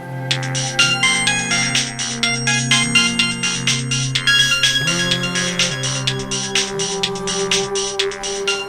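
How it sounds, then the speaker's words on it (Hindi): A mobile phone ringtone plays on and on, a bright, repeating electronic melody with regular pulsing notes, loud and close with no one speaking over it. "तब मोबाइल का रिंग बजना, वो भी लगातार"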